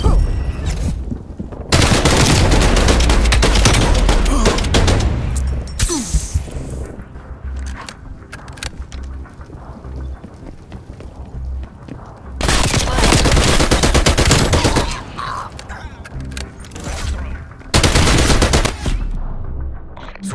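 Heavy automatic gunfire in Call of Duty Black Ops Cold War, loud, close bursts of rapid shots in several long stretches with brief lulls between, some talk mixed in.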